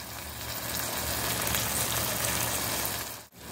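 Shrimp kolim sizzles hard in a pan just after a little water is added, a steady loud hiss and crackle throughout that briefly dips near the end, with no voices.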